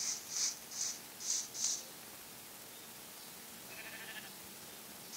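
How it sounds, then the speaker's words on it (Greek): Sheep in the video game Minecraft bleat five times in quick succession, short rhythmic calls close by over a faint background hiss, followed by quieter rustling. "Ακούω και πρόβατο."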